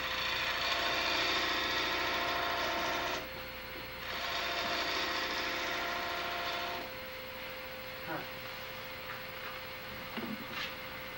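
A wood lathe hums steadily while a tool cuts flat across a spinning segmented wooden platter, giving faint, raspy scraping bursts that stop and start, with a few small clicks near the end.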